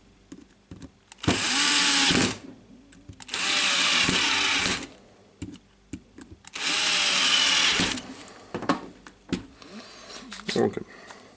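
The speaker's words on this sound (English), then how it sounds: "I will put the screws back again." A power screwdriver drives screws back into a Makita drill housing in three loud close whirring bursts of a couple of seconds each, separated by pauses with clicks and handling noise, while a person talks.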